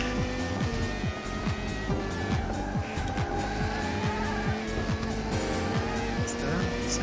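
A race car at full power in the Dreamcast game 24h du Mans, a loud continuous high-revving engine whine with repeated gear shifts and tire squeal, steady and close throughout.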